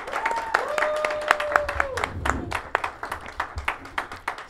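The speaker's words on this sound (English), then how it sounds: "Let's have a round of applause for Councilwoman Vicky Martinez." A live audience applauds a councilwoman at a local television show taping; scattered claps ring out over a few seconds under a host's voice, gradually thinning toward the end.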